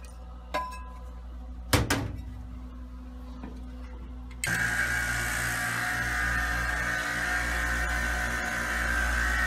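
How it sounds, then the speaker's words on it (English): A few clinks and knocks, then a vacuum pump on an ethanol filtering setup starts up and keeps running loudly with a constant mechanical hum. "then we're going to flip our vacuum pump on."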